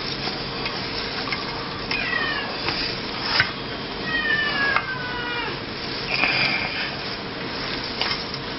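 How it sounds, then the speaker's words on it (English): A cat meows repeatedly in a kitchen, several rising cries spread across the stretch over a steady background hum, with a few soft knocks in between. "Cat's crying."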